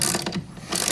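Brief ratcheting clicks from a socket wrench tightening a bolt on a 1300 W electric ATV, a quick rattling burst, a short pause, then more clicking, close and alone.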